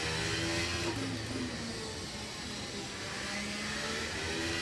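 Race car engine in the F1 23 video game at the Chinese Grand Prix, a steady high-pitched whine and drone that holds at constant loud level throughout, with slight pitch shifts and no talking.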